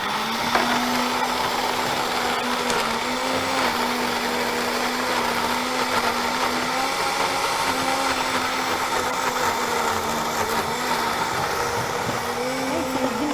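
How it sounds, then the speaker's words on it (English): A kitchen blender runs continuously at a steady high-pitched whir, loud and unbroken from start to finish. "Give me the blender."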